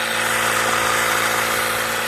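A homemade prototype Tesla turbine fired by firewood runs at full speed with a loud, steady whirring roar and a constant buzzing vibration that holds without a break.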